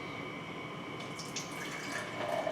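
Liquid is poured straight into a container, giving a faint trickling and dripping that slowly builds toward a fuller filling sound near the end.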